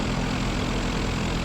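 Zenith light aircraft engine running steadily in flight, a dense constant roar heard from inside the cabin with no breaks or voices.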